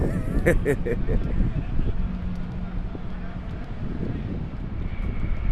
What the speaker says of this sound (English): this is a nesting place for geese and other birds and wildlife